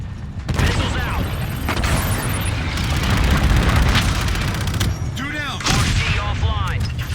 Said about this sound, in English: Missiles out.